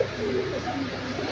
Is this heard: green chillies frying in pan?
no